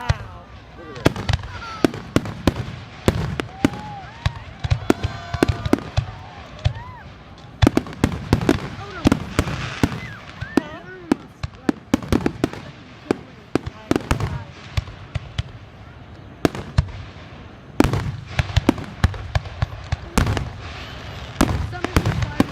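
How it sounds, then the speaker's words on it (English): Fourth of July fireworks burst and crackle in a long irregular barrage, loud booms and popping volleys from a distance, with people talking and exclaiming throughout. "Some of these fireworks look like they're alive because they move."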